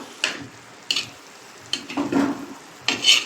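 A spoon stirring anchovy peera, a dry coconut and fish mix, in a pan: four quick scraping bursts close by, with a faint sizzle between them.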